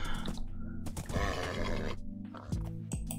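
A horse neighs and whinnies in Minecraft, with short grunts and snorts in between, close and clear.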